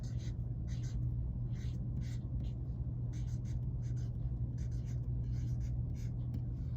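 A word written by hand, with short scratchy strokes in a halting rhythm over a steady low hum, quiet and close, with no talking.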